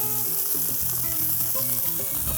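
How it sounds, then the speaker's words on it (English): Asparagus searing on a griddle gives a steady, continuous sizzle with a constant fry hiss, while background music plays softly underneath. "I'm gonna simply sear the asparagus"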